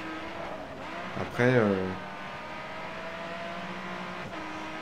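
Race cars in GRID Autosport drone and accelerate steadily, with a brief rising engine surge near the start while someone speaks over the engine noise.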